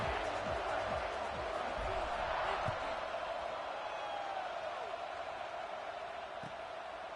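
A stadium crowd at kickoff in the NCAA 26 college football video game keeps up a steady, broad roar, with a commentator's voice over it throughout.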